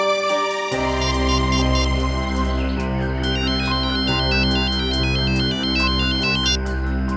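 A phone ringtone plays a loud, continuous electronic melody with repeating tonal phrases over a steady bass, filling the whole clip without any talking.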